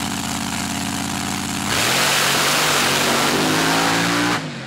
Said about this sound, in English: You can literally feel the ground shake as these cars go by.